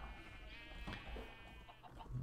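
A sheep bleats in the Minecraft video game by a sheep pen, a single wavering bleat over a low hum of game background noise.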